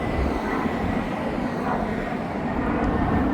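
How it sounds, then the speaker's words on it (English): Planes taking off near the Las Vegas sign, a steady loud jet engine roar that fills the whole stretch, with faint traffic-like rumble beneath and no talk. "planes taking off."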